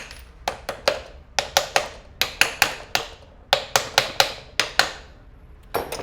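A hammer gently taps the cover of a bag closer machine into place during an armature change, with sharp, close knocks falling in small uneven groups of two or three, about sixteen strikes in all.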